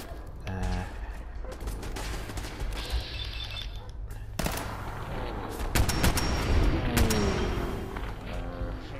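Gunfire from a player's weapon in the video game Fallout 4, sustained shots and bursts running throughout alongside game effects, with a loud heavy burst midway.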